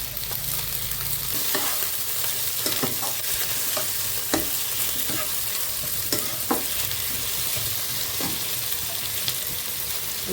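Onion, a medium tomato and ginger-garlic paste fry together for a Bengali prawn curry, a dense continuous sizzle with scattered spatula clinks and stirring strokes throughout, close and fairly loud with no speech.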